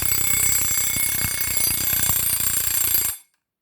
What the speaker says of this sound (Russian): О, будильник.